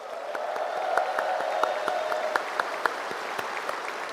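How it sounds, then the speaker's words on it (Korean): Applause from a crowd at a Korean political party rally, moderate and somewhat distant, with a few sharp individual claps standing out against a steady wash of clapping. "우리 김경수 후보님께도 뜨거운 박수 부탁드립니다"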